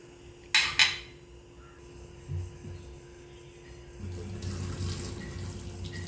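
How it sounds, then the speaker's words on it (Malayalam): Water splashes and runs steadily as it is drained from cooked rice from about four seconds on, after two sharp clinks of metal on a pot near the start. "അപ്പോൾ വെള്ളമൊക്കെ ഒഴിവാക്കുകയാണേ"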